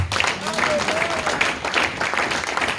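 A church congregation applauds in a dense, continuous clatter of hand claps, close and fairly loud, with voices mixed into the crowd.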